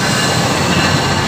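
An Indonesian passenger train rumbles loudly and steadily nearby. The roar is dense and unbroken, with a faint hint of wheel squeal, and no voices are heard.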